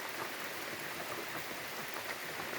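Rain falling in a forest at night, a steady dense hiss of drops on leaves and ground, continuous and fairly quiet with no voices.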